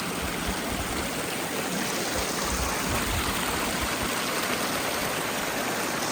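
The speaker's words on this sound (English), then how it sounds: "A 24-foot beautiful pondless waterfall." A 24-foot pondless backyard waterfall pours down a hillside with a steady, full rushing splash, close and continuous, with no voices.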